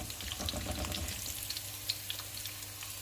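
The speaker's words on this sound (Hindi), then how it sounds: "और दूसरी साइड से भी इसको हम 5 मिनट तक फ्राई करेंगे।" Fish frying on a tawa, a steady close sizzle with crackling pops running throughout.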